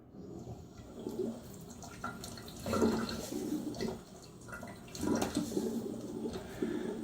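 Tap water splashed onto a face before a wet shave, with soft, close splashes and trickling in several uneven bursts.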